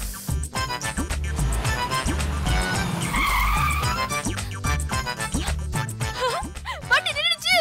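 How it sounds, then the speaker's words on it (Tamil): A taxi brakes hard and slides to a stop with a squeal of tyres, loud and close, over a busy musical score, with a short sharp skid near the end. "வண்டி நின்னுச்சு."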